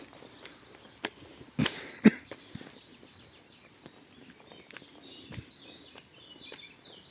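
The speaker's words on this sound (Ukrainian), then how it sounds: "Гарно пташки співають." Faint birdsong chirps in the background outdoors, mixed with a cough, scattered clicks and footsteps at a quiet, distant level.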